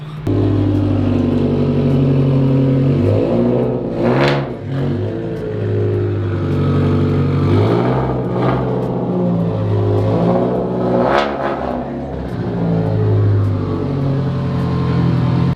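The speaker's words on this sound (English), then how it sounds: "I'll set up the camera behind the car so that way you guys can hear the exhaust a little bit more, because this thing sounds phenomenal." A Subaru STI's exhaust rumbles loudly close behind the car as it pulls into a garage, with several rising revs and throttle blips over a deep, uneven idle.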